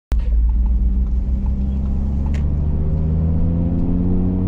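A tuned Audi RS3, an all-wheel-drive sedan, accelerates hard with its tires sliding, a loud close engine roar climbing steadily in pitch from a sudden start and holding strong throughout.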